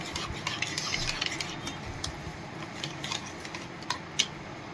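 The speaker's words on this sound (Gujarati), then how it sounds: "મિક્સ કરી લેશું" A spoon stirs a sabudana vada mixture of soaked sabudana with rock salt and sugar in a bowl, giving a steady run of close scraping and mixing sounds with a few sharp clinks of metal on the bowl.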